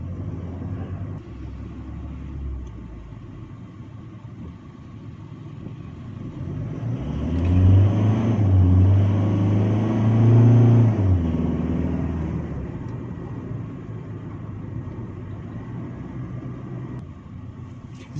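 Maxus T60 pickup truck pulling away from a standstill, a low rumble swelling into a deeper, louder engine note for a few seconds before easing back to a steady drone, with no voices.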